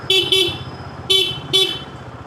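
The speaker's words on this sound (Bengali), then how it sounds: "আমি ওর হর্ন একটু বেশি দিই" A motorcycle horn honks on a damp village road after rain, two quick beeps followed by two more spaced blasts, loud and close over a low idling engine rumble.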